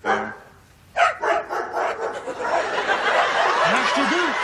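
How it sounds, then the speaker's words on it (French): Two dogs bark and yip in quick bursts at close range, layered over laughter and chatter, with a few higher whining yelps near the end. "2 chiens qui jappent tout le temps, ouais."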